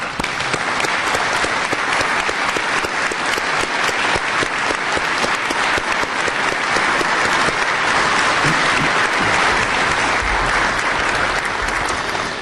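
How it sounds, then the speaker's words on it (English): A room full of people applauds during an Ottawa City Council meeting in May 2016, honoring award nominees with sustained, even, full-volume clapping that continues unbroken and unaccompanied by voices. "I invite everyone to join me in a round of applause and appreciation of their contributions."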